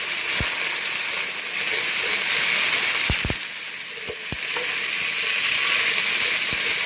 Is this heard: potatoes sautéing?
yes